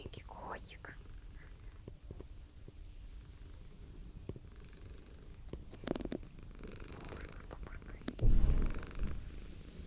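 A sleeping cat snoring and purring softly up close, low rhythmic breathy rumbles at a quiet level, with faint whispery noises and a louder rustle near the end.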